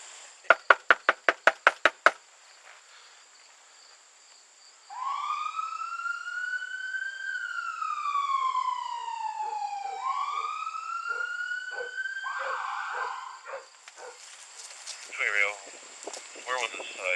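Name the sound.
police car siren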